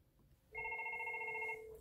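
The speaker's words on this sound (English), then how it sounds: "So we see the call ringing in" A FortiFone IP phone rings with an incoming call: one bright electronic ring lasting about a second, sounding clearly in an otherwise quiet room.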